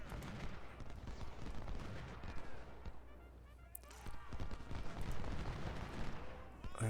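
Musket and cannon fire from a Civil War battle in the strategy game Ultimate General: Civil War, heard as dense crackling volleys with scattered sharper reports, fairly faint and continuous throughout.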